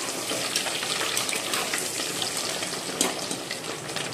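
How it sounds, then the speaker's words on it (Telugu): Eggs frying in oil seasoned lightly with turmeric give a steady, dense crackling sizzle with soft bubbling, broken by a brief sharper spatter near the end. "ఎగ్స్ అన్నీ ఆయిల్లో కొంచెం లైట్గా పసుపు వేసి ఇట్లా వేపుకుంటున్నా"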